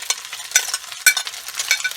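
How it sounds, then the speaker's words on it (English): Eggs, onions and shrimp get stirred in a frying pan, a spatula scraping in quick irregular strokes over a soft, constant sizzle, close and moderately loud with no voices. "We're giving it a good stir."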